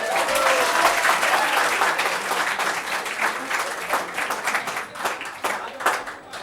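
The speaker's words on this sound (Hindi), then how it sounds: "ताली तो बजाओ" Students in a coaching class clap for a classmate, a dense burst of hand clapping that gradually loosens into uneven, separate claps as it winds down.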